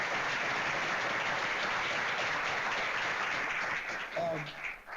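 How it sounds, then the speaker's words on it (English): Audience applause at a community forum on a hospital campus, a dense, steady wash of clapping that carries on for several seconds before thinning out near the end. "let's give them a round of applause as we start this"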